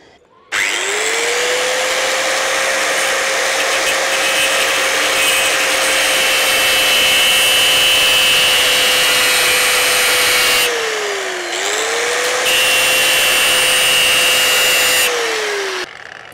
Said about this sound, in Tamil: நோட் பண்ணிவிட்டு ஒரு 3 பார்ட்டை வந்து நான் வெட்டிக்கிறேன்